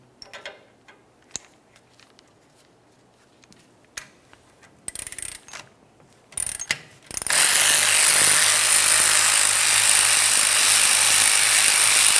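A hand ratchet clicks in short bursts as a brake caliper bolt is backed out on a 1994-2002 Ram 2500 rear brake, then a loud steady broadband hiss or spray takes over for the last few seconds.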